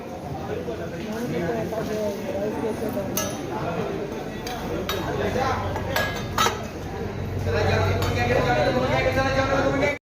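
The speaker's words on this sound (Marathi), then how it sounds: "डबे उघडले तिथे, काय आणलं आहे जेवायला बघूया." Steel tiffin boxes clink and clatter as they are opened for a meal of potato bhaji and chapatis on a village trip, with continuous overlapping talk throughout.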